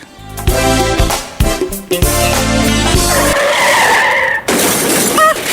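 Car skids with a screech of tires and crashes into another car, the impact ending in a loud shattering of glass and metal; a music bed plays under the sequence.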